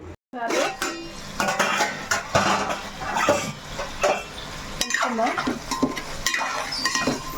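Ground tomato, onion, coriander and masala paste going into hot oil for a chicken curry, a loud wet sizzle with repeated clattering and scraping of a spoon against the pan, close and busy throughout.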